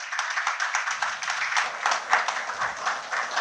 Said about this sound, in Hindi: तालियों से उनका भी स्वागत कीजिए।